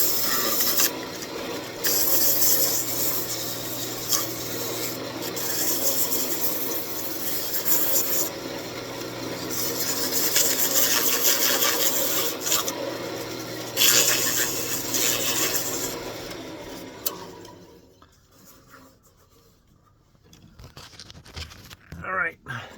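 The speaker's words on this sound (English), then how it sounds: "Sandpaper." Sandpaper held against a walnut rosette spinning on a wood lathe gives a loud, steady hissing rasp over the motor's hum, with brief changes in pressure, before the sanding stops and the lathe quiets near the end.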